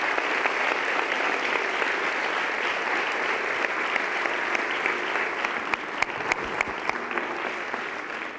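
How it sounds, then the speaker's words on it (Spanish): An audience at a Seville Holy Week gala applauds a historian, dense sustained clapping filling the hall at a steady level, with a few sharper individual claps toward the end. "Quiero que se levante y que ustedes le den un aplauso."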